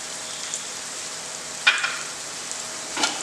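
Chopped garlic and ginger frying in a pan, a soft steady sizzle with a couple of brief crackling spurts from stirring, close and fairly quiet, with no talking.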